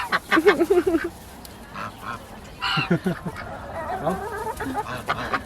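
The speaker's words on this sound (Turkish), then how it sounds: "Aa, kaz da geldi." Honking calls from a goose come in short bursts, mixed with nearby voices and background chatter, at a beach campground in Foça, İzmir, Turkey.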